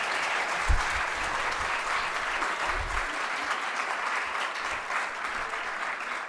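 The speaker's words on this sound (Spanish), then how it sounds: "le vamos a dar un aplauso a Ramón por la presentación de hoy día" An audience at a lecture applauds a presenter named Ramón, a steady wash of many hands clapping that holds at an even level, with a couple of low thumps early on.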